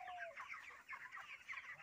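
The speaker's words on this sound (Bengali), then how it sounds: "এই যে আমার মুরগি" Chickens on a poultry farm during hot weather cluck softly in quick, overlapping bursts, a busy flock murmur that stays fairly faint and close throughout with no talking.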